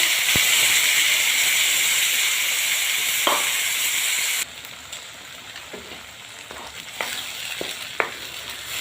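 Masala frying in a pan for shahi paneer sizzles loudly in a steady hiss for about four seconds, then drops to a quieter crackle with occasional stirring clinks.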